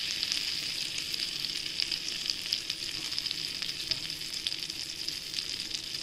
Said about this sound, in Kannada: ಬೆಣ್ಣೆ ಕರಗಿದ ತಕ್ಷಣ ಸ್ವಲ್ಪ ಅಚ್ಚಕಾರದ ಪುಡಿ ಹಾಕ್ಕೊಳ್ತೇನೆ